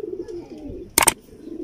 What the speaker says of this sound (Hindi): ये जो टैडी कबूतर हैं बहुत कम लोगों के पास पड़े हैं इस तरह के